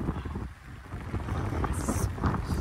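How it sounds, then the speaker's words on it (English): A heavy rain downpour falls on an outdoor wrestling match, a dense rumbling wash of rain and wind buffeting the microphone, steady and loud for the whole moment. "They are fighting in this downpour of rain."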